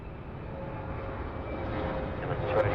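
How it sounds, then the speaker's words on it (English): A small, fast plane roars at Sydney Airport, a broad steady engine rumble that builds slightly in loudness, heard from a distance with a faint tonal whine running through it. "I can tell you it's a very fast and small plane"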